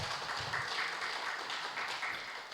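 A congregation at a Korean Sunday church gathering claps in applause, a soft, fairly distant patter of hands that runs steadily throughout.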